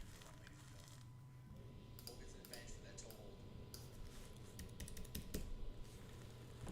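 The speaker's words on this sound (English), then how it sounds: "Why is it my keyboard not working?" Typing on a computer keyboard, quick irregular bursts of close plastic key clicks over a low background hum, growing busier toward the end.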